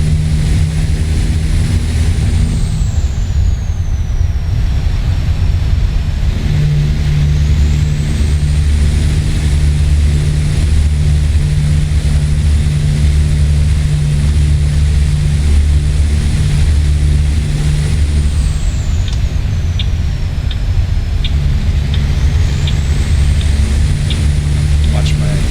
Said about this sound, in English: You guys like the sound of the engine,